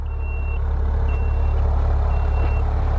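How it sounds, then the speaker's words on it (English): Maserati Levante SQ4 power tailgate warning as it begins closing: three evenly spaced, clear high-pitched electronic beeps over a steady low engine idle rumble, close and distinct. "Beep warning, just to let you know it's coming."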